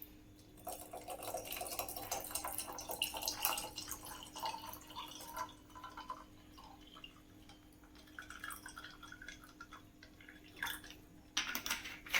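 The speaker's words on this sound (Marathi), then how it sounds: "आता आपण त्याच्यावरनं पाणी टाकून घ्या." Chilled water is poured over raw mango pulp for kairi panha, giving faint, irregular splashing and trickling close by with no talk.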